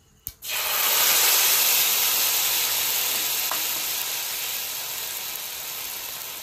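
Spice paste and mustard seeds hit hot oil with a sudden loud sizzle. The hiss stays strong and steady, then fades slightly, close up with no talking.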